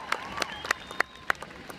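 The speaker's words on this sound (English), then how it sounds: "let's give them a big round of applause" A crowd at a Harry Potter celebration on opening night at Universal Studios Florida gives a few scattered claps. The claps are faint and distant and sound thin against a quiet background hum, with a faint whistle-like tone drifting through.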